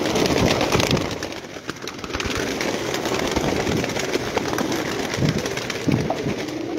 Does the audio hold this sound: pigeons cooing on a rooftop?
yes